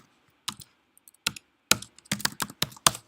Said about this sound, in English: so you start typing your message in here